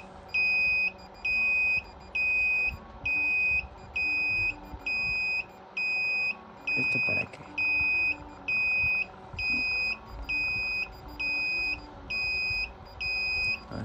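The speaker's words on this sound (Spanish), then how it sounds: "tenemos ahí la alarma" A ZL7801 incubator temperature controller sounds an over-temperature alarm as a regular series of high electronic beeps, each lasting about half a second and repeating roughly once a second, with a brief voice speaking faintly underneath.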